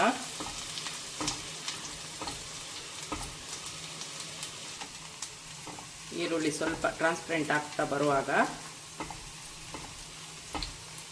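Onions sizzle and crackle steadily in a hot pan until turning translucent, for prawn fried rice, with scraping stirring sounds, while a person talks over the frying midway.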